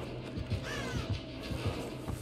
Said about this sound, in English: She didn't see the fucking crows near me.